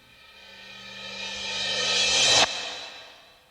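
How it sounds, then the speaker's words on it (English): A reverse-cymbal riser in a trap beat swells steadily in loudness and brightness for about two and a half seconds, then cuts off sharply, leaving a brief fading tail. "we just have a few effect sounds like this riser"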